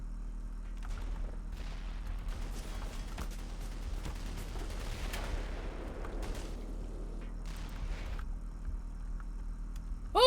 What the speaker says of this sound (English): Hey, check out our new tow missiles.